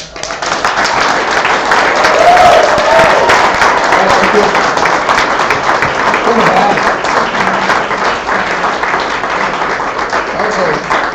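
Sustained applause from an audience at a Libertarian convention mixer in California, dense and loud for over ten seconds, with a few voices murmuring underneath the clapping.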